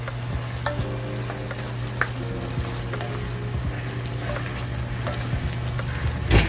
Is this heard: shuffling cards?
no